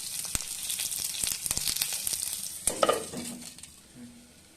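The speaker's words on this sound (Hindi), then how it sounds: "बघार लगाने के लिए तड़का लगा रहे हैं।" Spices with curry leaves and garlic sizzle and crackle in hot oil as a tempering for peanut-coconut chutney, with a spoon stirring and clinking against the pan close by.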